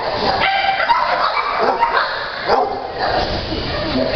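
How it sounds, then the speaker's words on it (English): An 8-year-old Jack Russell Terrier mix of about 40 pounds gives short yips and barks over steady background noise, with speech-like voices mixed in. "Tangle is a Jack Russell Terrier mix, 8 years old, and she weighs about 40 pounds"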